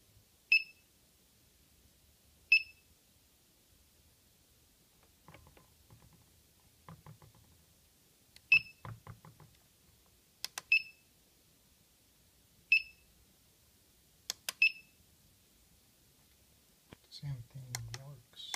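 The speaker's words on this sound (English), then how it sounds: "It's just a debug beep, so don't mind." Short, sharp debug beeps from a TBS Crossfire radio device repeat at irregular intervals, faint and thin, between quiet clicking and low talk nearby.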